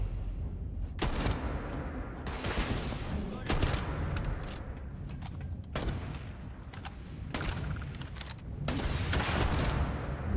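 Sniper fire in the space game Starfield, about six loud separate gunshot blasts spaced a second or two apart over a continuous game-action background.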